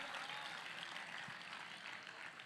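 A church congregation in Chirala applauds in praise during a sermon, a steady broad wash of many hands clapping together that holds at an even level for the whole stretch, with no voices standing out.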